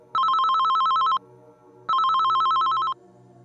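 A telephone rings twice in loud electronic bursts of about a second each, separated by a short silence, used as a sound effect in a Telugu horror story.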